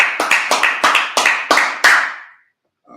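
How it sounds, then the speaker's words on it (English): A congregation at a Sabbath service claps in unison, about eight sharp, evenly spaced group claps over two seconds, loud and close, then a short silence. "Clap it up."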